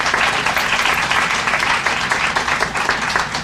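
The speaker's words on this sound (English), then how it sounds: "Can you stand up and give yourselves a round of applause?" An audience stands and claps at a civic gathering in Suitland, Maryland, producing a dense, steady round of applause at moderate volume throughout.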